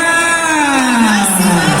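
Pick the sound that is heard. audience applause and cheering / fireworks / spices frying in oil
audience applause and cheering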